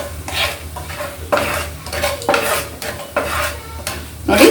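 A spoon stirs and scrapes a fox nut snack mixture with spice powder frying in hot oil in a pan, making repeated metallic scrapes over a steady sizzle, close and fairly loud.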